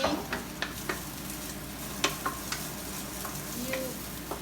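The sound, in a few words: garlic, ginger and onion frying in oil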